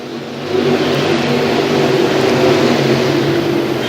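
Race cars roaring past at Tyler County Speedway during a crate-engine race, a loud continuous mid-pitched engine drone that swells after the first half second and holds steady, with no voices.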